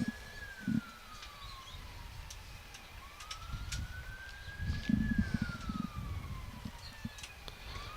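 A police siren in Mackay, Queensland, wails in slow rising and falling sweeps, heard at a distance over low rumbling background noise during a bowls championship.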